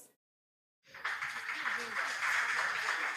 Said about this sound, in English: A round of applause to all our contestants, please.